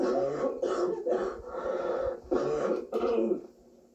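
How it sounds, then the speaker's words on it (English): Several deep, throaty smoker's coughs and throat-clearing sounds come in quick bursts, close and loud, with short pauses between them. "are you concerned about your health with that smoker's cough?"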